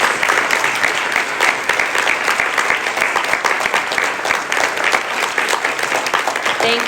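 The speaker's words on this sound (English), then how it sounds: "Let's give a big round of applause to the candidates" Audience applause for the candidates at a Providence Ward 2 special election candidate forum: dense, steady clapping from a sizable crowd, sustained and loud for about seven seconds without break.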